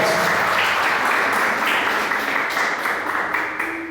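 A church congregation applauds during a service, loud sustained clapping from many people that slowly fades toward the end, with faint voices underneath.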